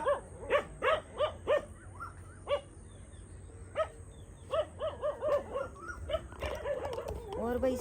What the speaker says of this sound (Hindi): और भाई इधर देखो किसको भौंक रहे हैं।